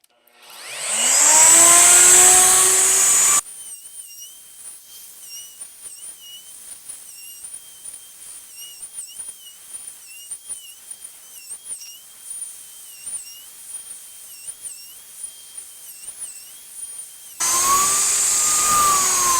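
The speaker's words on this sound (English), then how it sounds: "You see what you guys think of this Crafted Elements router sled." A router rides a Crafted Elements 72x60-inch linear-rail router sled, opening and closing with a loud, steady high-pitched whir. Between those bursts the cutting drops to a quieter whining hum with small ticks and fluctuations.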